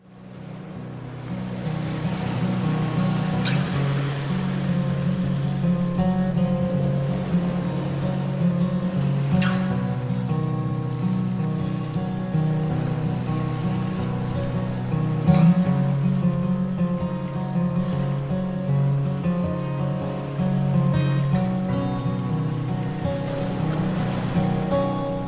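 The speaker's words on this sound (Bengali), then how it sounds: "তো আমাদের বোট এখন ছেড়ে দিয়েছে এখান থেকে।" A tour boat runs across open sea among the Phi Phi Islands off Phuket, its steady low engine drone and rushing water and wave wash continuing loud and unbroken with occasional splashes.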